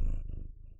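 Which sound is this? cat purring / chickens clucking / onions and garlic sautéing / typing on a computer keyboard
cat purring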